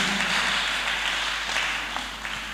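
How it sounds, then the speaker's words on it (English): A church congregation claps softly, a dense, even wash of applause from a crowd in a large room, fairly uniform and without speech over it. "Oh, this clapping is too weak."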